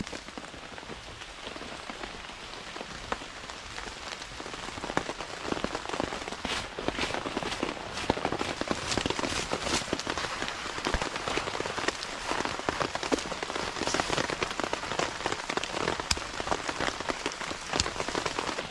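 Steady rain patters on a tarp shelter at a bushcraft camp, a dense crackle of drops that thickens after the first few seconds and continues without any voices.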